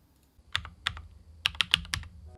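Keystrokes on a Matrix 8XV 2.0 TKL keyboard in E-coat gray: about seven crisp clacks, two spaced then a quicker cluster, close and clear with no talk.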